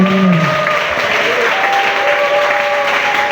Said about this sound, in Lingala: Est-ce qu'on peut acclamer Jésus le roi des rois?